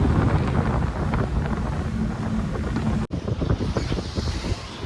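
A speed boat runs out to Coral Island off Pattaya, its hull and engine roar buried in steady, loud wind buffeting and rushing water, with a brief dropout near the end before the rough churning resumes.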